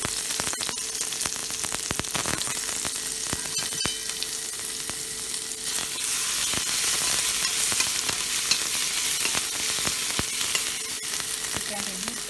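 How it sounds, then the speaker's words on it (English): Mustard, fenugreek and cumin seeds with chilli frying in hot oil, a continuous crackling sizzle with sharp popping seeds and occasional stirring, close and steady throughout, no voices. "Now add mustard seed, fenugreek seed, cumin seed and chili into the oil."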